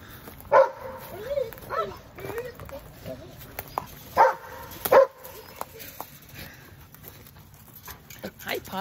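Dogs give a few short, close barks and yips at irregular intervals while a person talks nearby.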